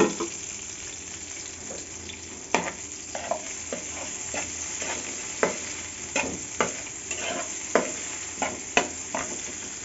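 Green chilies and onion fry in oil for an egg and pointed gourd dish, a soft continuous sizzle punctuated by regular scraping knocks of a spatula against the pan, close up, no talking.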